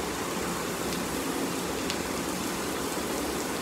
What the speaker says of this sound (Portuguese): A chuva já tinha levado metade.